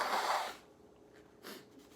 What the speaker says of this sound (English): I'm gonna blow my nose again.